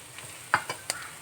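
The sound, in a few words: carrots, beans and spring onions frying with potatoes in pan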